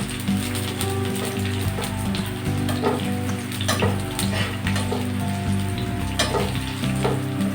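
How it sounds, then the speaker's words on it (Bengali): Slit green chillies and onions frying in oil make a steady, loud sizzle under a continuous low hum, with a few sharp clicks from a spoon against the pan. "এখন আমি 2টা কাঁচামরিচ চেরা দিয়ে দিলাম।"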